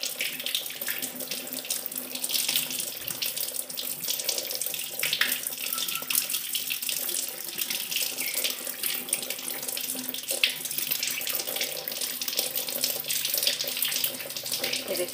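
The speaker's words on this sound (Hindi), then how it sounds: "अब हम इनको नल के नीचे साफ पानी से धो लेंगे।" Tap water runs steadily from a faucet over silver idols being rinsed clean after scrubbing, a close, continuous splashing hiss with small shifts as the idols are turned under the stream.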